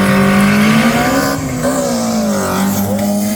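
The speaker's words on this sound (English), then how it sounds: "let's watch this rear wheel drive Corolla come out of the line" A rear-wheel-drive, naturally aspirated Toyota Corolla launches off the line at a drag race, its engine roaring loud and close, pitch climbing through the revs with a brief dip at a gear change.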